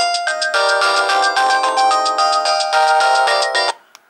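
A Samsung GT-E1150i phone plays a bright electronic melody for a video game, steady and loud for about three and a half seconds before stopping abruptly.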